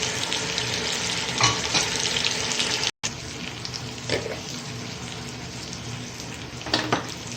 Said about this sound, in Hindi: ये डालकर और इसको 3 से 4 मिनट फ्राई करते हैं।